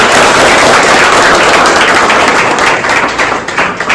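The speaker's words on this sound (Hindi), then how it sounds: "सर के लिए ताली मार दीजिए एक बार" Audience applause for a teacher at the opening of a learning academy, a dense, continuous wash of clapping that stays loud throughout and thins slightly toward the end.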